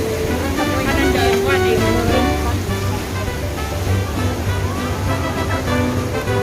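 An outdoor water fountain splashes steadily in a constant, broad rushing wash, with faint voices murmuring in the background.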